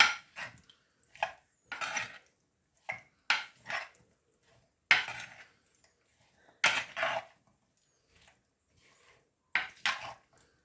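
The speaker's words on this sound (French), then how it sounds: "Et je vais mélanger à l'aide d'une cuillère." A spoon scrapes and clinks against a dish while mixing fish tagine marinade with tomatoes and potatoes, a series of irregular metallic knocks and scrapes with quiet gaps between, close and clear.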